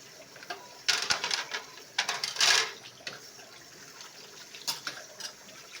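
Dishes being washed under plenty of running water, with bursts of splashing and clinking of plates alternating with quieter stretches of trickling, close and moderately loud.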